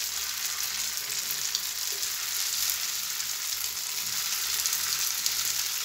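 Potato balls sizzle in hot oil in a pan on a stovetop, a steady, loud hiss of frying with no voices over it.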